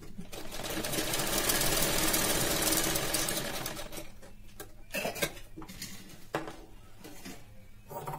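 A sewing machine stitches a blouse lining made of double-folded fabric, running in a steady continuous whir for about three seconds, then stopping and restarting in short bursts with clinks and handling noises between runs.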